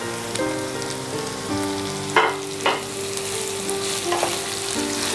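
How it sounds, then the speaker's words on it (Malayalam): Sliced onions sautéing in a pan for a chicken dish, a continuous close sizzle and crackle with a few sharper stirring scrapes, alone without talk. "എന്നിട്ട് ഒന്ന് വഴറ്റുക. അതായത് സവാള ഒന്ന് വാടാൻ തുടങ്ങണം."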